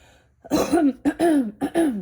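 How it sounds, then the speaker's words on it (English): A woman clears her throat close to the mic, three short rasping throaty bursts in quick succession, alone with no other sound. "Clear my throat."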